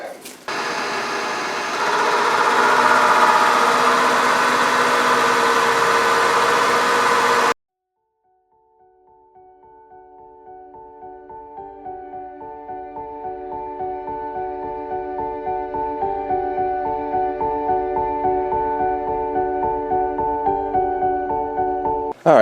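A metal machining pass along the flat side of a massive 123-pound steel sword blank: a loud, broadband burst of noise stops abruptly. Then a steady whirring hum with pulsing harmonics builds, continuous and close.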